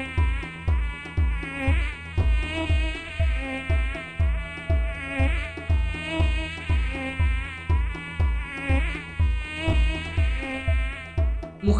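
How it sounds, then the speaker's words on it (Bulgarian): A housefly buzzes close by inside a room. Its drone is loud and continuous, pulsing in a regular rhythm as it circles, with no voices. "муха в стаята. Тези малки дразнители."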